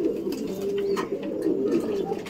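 Pigeons coo in a low, continuous, close murmur over a couple of seconds, with several soft calls overlapping.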